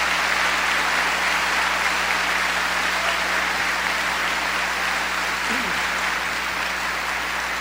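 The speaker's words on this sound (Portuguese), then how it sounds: "Pode aplaudir a palavra." A church congregation applauds after the Gospel reading, a dense, steady wash of clapping that holds evenly and fills the room throughout.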